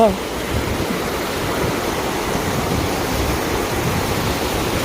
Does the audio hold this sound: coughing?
no